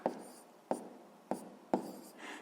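Writing on a board during a sixth-grade math lesson: four crisp strokes or taps at regular intervals, each fading into a soft scrape, close and quiet with no talking.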